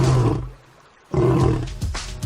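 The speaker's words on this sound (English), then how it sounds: "Male lions roar every day" A male lion roars in two deep, loud bursts close by, with a brief near-silent gap between them.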